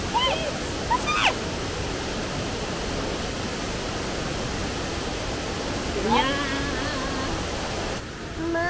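A waterfall in Litchfield National Park, Northern Territory, roars as a steady, broadband rush of falling water from a boardwalk viewpoint, with faint voices and a few brief whistle-like calls over the continuous wash.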